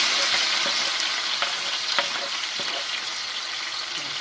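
Tomato and onion fry in oil in a pan for a Jamaican dish, giving a steady close sizzle with occasional sharp spatter pops and light clinks of stirring.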